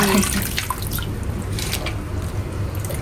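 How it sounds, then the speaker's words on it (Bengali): Leafy greens are washed by hand in water, with steady soft splashing and dripping close by for a few seconds and no talking. "তো এখানে শাকটা ধোয়া হচ্ছে শাক সব সময় একটু ভালোভাবে ধুইতে হয়"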